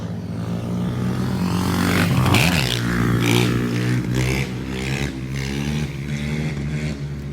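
A motorcycle engine revs hard and steadily nearby as a kid rides it on wheelies, the roar rising and falling with throttle bursts throughout, with no talking.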